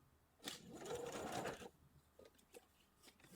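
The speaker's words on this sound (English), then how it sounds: "I'd count my stitches forward, go the same amount of stitches back so you don't overshoot" A sewing machine stitches a seam on a pair of doll-sized capri pants, running in one quiet burst of about a second, followed by a few faint, scattered clicks.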